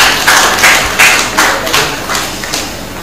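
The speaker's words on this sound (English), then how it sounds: "A round of applause." Scattered applause from a ceremony audience honoring award winners at a university convocation general meeting, with a few irregular bursts of clapping over roughly three seconds, moderately loud and fairly sparse rather than a dense ovation.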